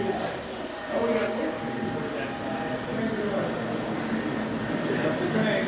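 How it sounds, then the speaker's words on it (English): A steam train rolls past at a museum train day, a steady low rumble and clatter lasting several seconds at moderate volume, with people's voices mixed in nearby. "Watch out, the train's coming."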